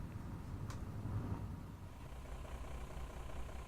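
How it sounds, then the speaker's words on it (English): A truck engine idles at a traffic light in Fernbus Simulator on the Osnabrück to Bremen route, a steady low rumble that holds continuously throughout, fairly loud and close, with no talk over it. "that truck in front is really noisy"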